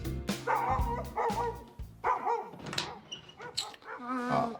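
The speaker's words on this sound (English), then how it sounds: "Dog again." A dog barks repeatedly in loud bursts, close by, with a few yips between the barks and some faint background thumps.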